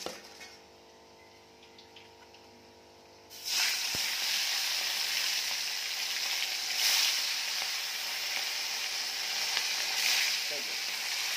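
Fish rubbed with turmeric and salt dropped into hot oil: a quiet room suddenly gives way to a loud, steady sizzle and crackle of frying that continues close by to the end.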